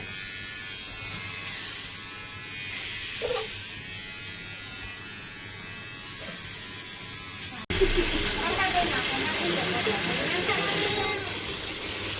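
An electric hair clipper buzzes steadily and close up while shaving a boy's head. The drone continues throughout the clip, its tone shifting partway through, with voices talking alongside.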